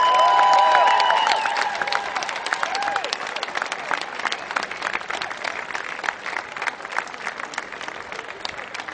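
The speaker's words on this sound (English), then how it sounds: "Big round of applause for Bernie Sanders, Bill Sorrell, and Govern" A rally crowd in Vermont campaigning to close the Vermont Yankee plant bursts into sustained applause, loud at first and then thinning into scattered, crackling claps.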